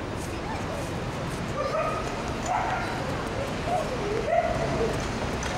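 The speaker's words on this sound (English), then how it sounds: "the sound of dogs barking" Dogs bark and yip amid street noise in a city square in Valparaíso, Chile, several short barks standing out over a busy background of ambient bustle.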